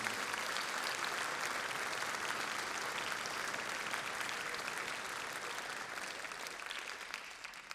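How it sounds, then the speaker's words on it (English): Sustained audience applause fills a concert hall for a collegiate campus band after its spring showcase performance, a dense, even wash of clapping that holds steady and fades only slightly toward the end. "will you please give another round of applause to Campus Band for their wonderful performance"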